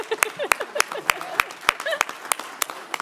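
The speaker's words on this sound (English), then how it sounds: "Please, again, a round of applause" A conference award ceremony audience claps in a steady patter of separate hand claps, moderately close, with a voice briefly heard over it.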